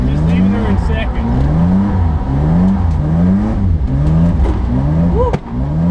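A BMW E30 325i with a swapped M50 engine revs hard from inside the car, its engine note rising and falling repeatedly in loud, close sweeps that dominate the whole stretch, with a brief excited voice near the end.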